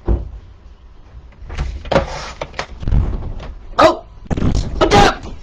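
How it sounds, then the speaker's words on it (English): A door slams shut indoors during a home cardmaking session, with several loud broadband thumps and bangs over a few seconds, some rattling, and no speech. "She's slamming the door to shut it."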